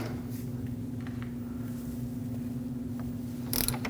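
A torque wrench works on a front lower control arm bolt of a 2006-2015 Lexus IS250, giving a faint, steady ratcheting click over a low mechanical hum, with a brief sharper burst near the end.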